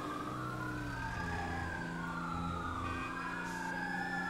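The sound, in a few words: emergency sirens in a video game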